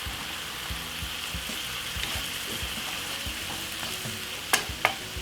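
Rice with paprika and Chinese five spice stir-fried in a pan, a steady close sizzle with scraping stirs and a couple of sharp clanks near the end.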